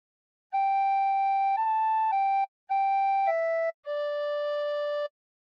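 A recorder plays a short phrase of the hymn Nearer My God to Thee: five clean, sustained notes in two breaths, steady and close, alone without any talking.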